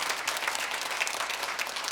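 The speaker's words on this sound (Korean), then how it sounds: "우리 격려의 박수," Congregation applause at a Korean church Christmas service for the choir, a steady, full patter of many hands clapping in a large room, moderately loud and without talking.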